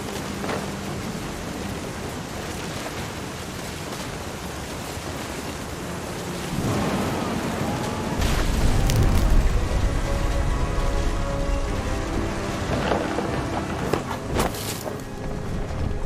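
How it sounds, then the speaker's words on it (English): Thunder and steady rain in the video game What Remains of Edith Finch: a constant rain wash throughout, swelling at about six seconds into a deep, close rumbling roll of thunder that lingers under the downpour. "The thunder sounded much too close and full of angry power."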